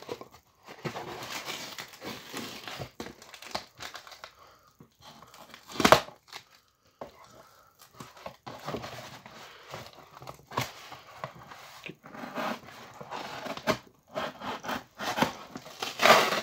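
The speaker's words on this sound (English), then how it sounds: "Cutting the cardboard." Cardboard packaging around a vinyl record being cut open, heard as intermittent crinkling, scraping and tearing bursts at close range with short quiet gaps, including a few sharper louder rips.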